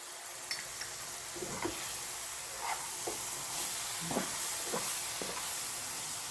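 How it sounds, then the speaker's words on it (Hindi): Crushed sweet coconut is stirred into sugar-coated bananas frying in a pan. A soft, steady sizzle runs throughout, with scattered light scrapes and taps from the utensil and no talking. "अब इसमें मैं क्रश कोकोनट डाल रही हूँ।"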